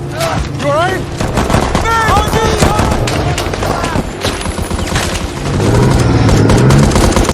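Gunfire from a war film set around an evacuation with tanks, bursts of shots and booms crackling densely through a loud battle mix, with shouted voices and a heavy low rumble building toward the end.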